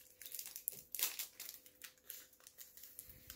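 A plastic wrapper on a chocolate dessert package crinkles and crackles close by in irregular bursts as it is pulled open, with one sharper rustle partway through.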